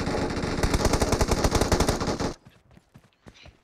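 Rapid automatic gunfire rattles out in the mobile battle royale BGMI, a dense burst of close shots for about two seconds, then a few quieter scattered shots and clicks with no talk.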